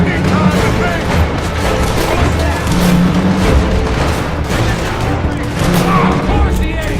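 Dense, continuous gunfire from a Red Dead Redemption gun battle, with repeated loud shots and booms overlapping throughout, and voices shouting beneath the barrage.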